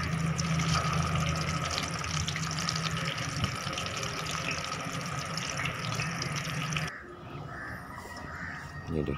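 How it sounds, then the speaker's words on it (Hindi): Apple ring pieces deep frying in hot oil, a steady dense sizzle and bubbling that runs without pause and dips slightly near the end. "1 बाय 1 इसको डालना है पीसेस को, और उसके बाद इनको अच्छे तरीके से फ्राई कर लेना है।"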